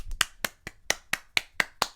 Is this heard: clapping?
yes